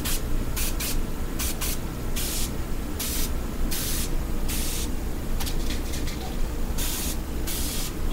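Repeated short bursts of Pam cooking spray hissing from the can, some brief and some longer, close by over a steady background.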